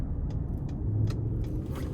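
A Ford F-150 with the 3.5 EcoBoost V6 cruising in normal drive mode, a steady low rumble of engine and road noise with a few faint higher ticks.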